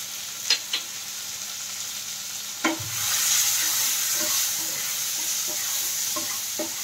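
Fish curry fries in a pan while a spoon stirs it. A steady close sizzle runs throughout, marked by occasional sharp scrapes and knocks against the pan.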